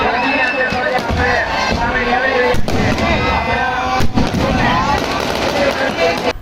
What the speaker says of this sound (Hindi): इस दौरान आतिशबाजी ने माहौल में रंग भर दिया।